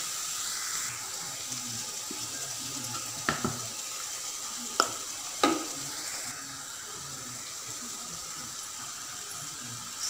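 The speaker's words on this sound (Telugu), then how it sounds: "ఉప్పు కూడా వేసుకుని కలిపేసుకుందాం." Onion paste with turmeric and salt stirred in a pan, giving a soft steady sizzle with a few sharp scrapes of the spoon against the metal, close and alone.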